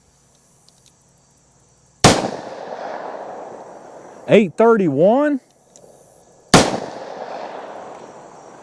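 Two sharp, loud gunshots of +P HST ammunition fire a few seconds apart, each with a short ringing tail, while someone briefly speaks between them.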